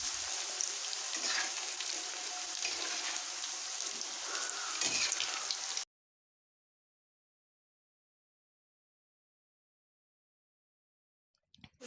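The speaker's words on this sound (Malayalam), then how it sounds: "ഈ ഒരു കളറാവുന്നത് വരെ എണ്ണയിൽ നന്നായി വറുത്തെടുക്കാം." Potato french fries deep-fry in hot oil with a dense, even crackle and bubbling hiss for about six seconds, then the sound cuts to silence.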